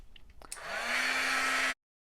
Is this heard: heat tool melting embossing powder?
yes